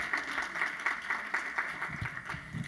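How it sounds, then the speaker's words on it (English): An audience claps for volunteers at a closing ceremony, steady moderately loud applause that persists throughout. "please give yourselves a big round of applause and raise your hand."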